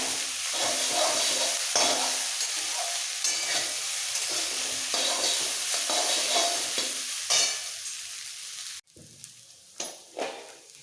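Maggi noodle mixture frying and being stirred in a pan: a loud, steady sizzle with scraping strokes for about eight seconds, then a sudden drop to quieter crackling and a few clinks of the utensil.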